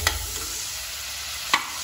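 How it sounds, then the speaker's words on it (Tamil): Chicken being stirred into frying biryani masala in a pot, a steady soft sizzle broken by two sharp scraping stirs at the start and near the end. "இப்போ நான் வந்து சிக்கன் ஆட் பண்ணிக்கிறேன். நல்லா 1 நிமிஷம் வந்து மிக்ஸ் பண்ணி விட்டுக்கோங்க."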